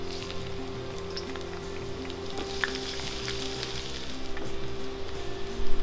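Garlic sizzling in hot oil in a pan, a close, steady crackling hiss that grows slightly busier toward the end, with no voices.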